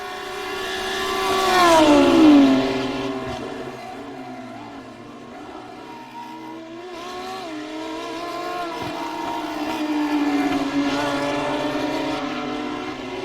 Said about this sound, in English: Going across the line, the Lamborghini back in the lead at the moment.